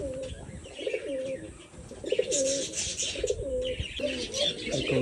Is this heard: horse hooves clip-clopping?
no